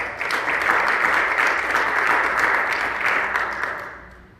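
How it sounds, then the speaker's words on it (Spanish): A church congregation claps together in a full, steady burst of applause that swells and then tapers off over a few seconds, heard in a large room. "Dale fuerte aplauso al Señor."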